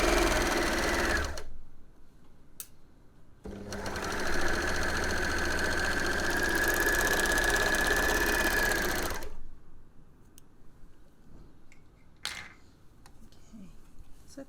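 Sewing machine stitching beanie fabric, a steady close mechanical whir running in two sustained bursts separated by quiet pauses with small clicks of handling.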